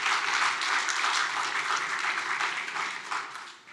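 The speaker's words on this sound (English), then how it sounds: "So I'd love to give them a round of applause." A round of applause from the audience at a hackathon closing ceremony honouring prize winners, steady and fairly dense clapping from a crowd heard at moderate distance, thinning slightly toward the end.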